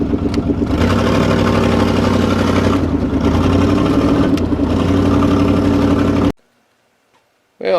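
A Chevrolet Silverado pickup engine runs steadily on a test run, a loud close rumble with slight rises in revs, then cuts off abruptly into near silence before a brief noise at the end.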